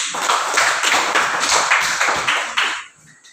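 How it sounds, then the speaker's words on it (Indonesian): A burst of group hand clapping by children in a classroom, many hands striking in quick, uneven rhythm for about three seconds, then fading out. "Tepuk tangan dulu."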